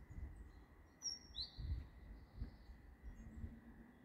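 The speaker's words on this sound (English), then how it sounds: "There's a bird." Small bird chirping outdoors on a clear, freezing winter day at about one degree, a few short high calls at moderate distance over low rumbling background noise.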